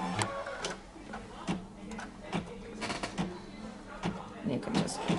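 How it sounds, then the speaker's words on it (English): A computerized embroidery machine stitches a placement outline for a leather piece on a plate project, giving a steady rapid ticking, clicking needle rhythm with periodic thumps, close and moderately loud, with some voice in the background. "I am going to hit the go button, and what it's going to do is stitch the outline that tells me where to place the leather for"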